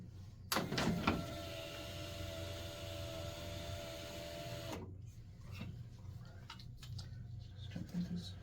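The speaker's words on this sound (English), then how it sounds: "you want to run the slider back open towards the motor." A car power window motor drives the regulator slider back toward the motor, making a steady electric whine for about four seconds before cutting off, with a few light clicks and handling noises afterward.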